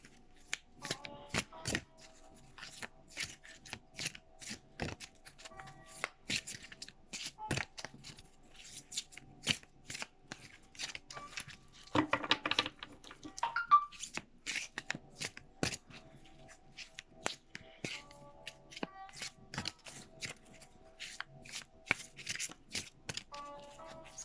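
Oracle cards are shuffled by hand in a quiet room, a long string of soft, close riffling and flicking sounds with brief pauses.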